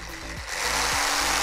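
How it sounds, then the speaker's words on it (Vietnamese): A jigsaw buzzes with a steady, rasping motor whine, its pitch wavering slightly as it cuts slowly through material at an unhurried pace. "Dây đốc cò này em cưa chậm nè"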